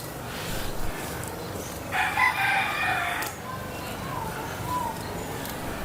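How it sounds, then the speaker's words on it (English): A rooster crows once in the middle distance, a long strained call over outdoor ambience with faint voices. "There were so many roosters and birds."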